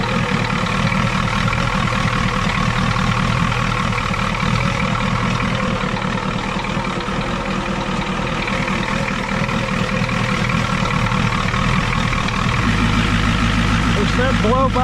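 A cold 1991 Ford F450 dump truck engine idles roughly nearby, a steady low loping rumble that shifts slightly near the end, with no talk over it.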